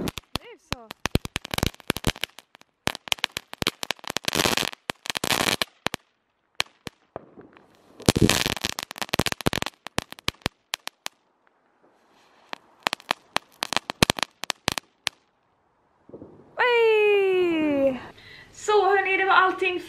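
Rapid strings of sharp homemade firecracker bangs on New Year's 2019 in several bursts with pauses between, loud and near, followed by people talking.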